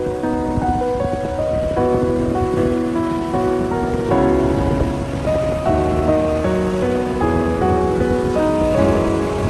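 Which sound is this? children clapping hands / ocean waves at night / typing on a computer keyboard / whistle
ocean waves at night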